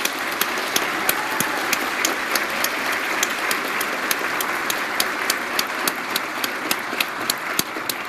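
A school awards audience claps steadily, a full round of applause with a few sharper individual claps standing out near the microphone, continuous and fairly loud.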